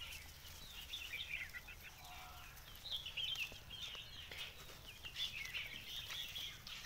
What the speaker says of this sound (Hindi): ये सब मुर्गियाँ अंडा के लिए रखे हैं, सब अंडा निकालने के बाद सब बच्चा निकालेंगे।